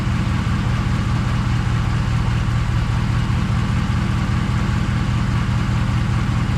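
A Ram 1500 pickup engine idling steadily while being shifted through the gears during an 8HP70 transmission service, a constant low rumble with no talk.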